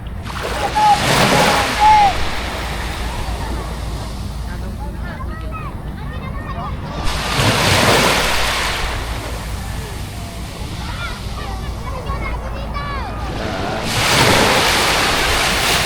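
Calm sea surf washes in three slow swells, each rising as a broad hiss and fading away, with steady wind rumble against the microphone and faint voices talking in between.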